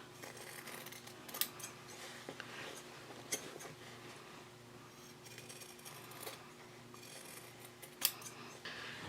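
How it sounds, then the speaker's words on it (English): Scissors snipping around the curved corners of sewn fabric for a shopping bag, a run of quiet, close, irregular cuts with a few sharper clicks of the blades, with no talking. "We want to trim these curves."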